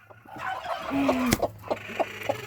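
Hens cluck at their nests in a henhouse, with a rhythmic series of short, close clucks, one drawn-out call and a sharp knock in the middle.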